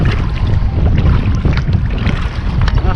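Strong wind buffets the microphone while kayaking on open water with the wind coming nearly head-on, a steady loud rushing roar with gusty swells and faint water sounds beneath, no talking.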